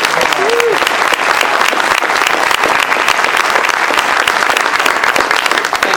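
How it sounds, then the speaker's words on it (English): Loud, close applause from diners at a political party dinner, with many hands clapping in a sharp, sustained roar and a voice briefly heard near the start. "Let's give them a round of applause."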